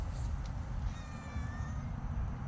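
A cat outdoors on damp ground after rain gives a single drawn-out meow, close and clear over low background rumble.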